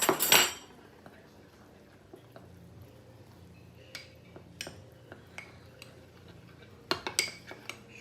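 A spoon stirring cornstarch and water into a thickener in a small dish, light scattered clinks and taps against the container after an initial clatter, close and fairly quiet.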